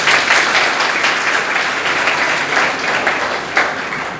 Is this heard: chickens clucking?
no